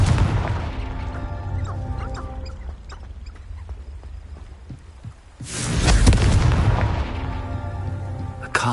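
A Confringo blasting spell in Hogwarts Legacy goes off as a loud, booming explosion with a crashing burst midway, preceded by softer clattering game sounds.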